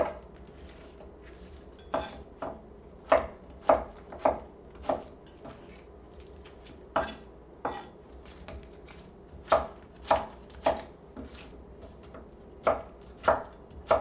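A knife rough-chops an onion on a cutting board in about twenty crisp, close, irregularly spaced thuds, some in quick pairs, with a faint room hum between strikes and no talking.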